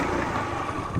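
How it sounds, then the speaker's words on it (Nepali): Scooter ridden out among the countryside around Masina, Ghorahi in Dang, its small engine droning steadily and close throughout with wind noise over it and no gaps. "म चाहिँ स्कुटी चलाइरहेको छु"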